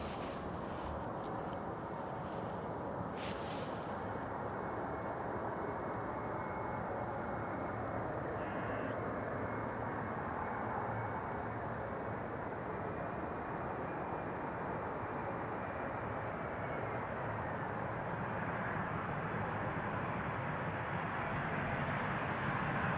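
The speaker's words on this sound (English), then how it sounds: "First, this Embraer 175 from KLM." A KLM Embraer 175 airliner lands on runway 18R at Amsterdam Schiphol, a steady, loud broadband jet roar that holds unbroken throughout, with no voices over it.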